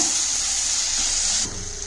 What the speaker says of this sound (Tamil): லைட்டாக தண்ணி தெளிச்சிக்கலாம்.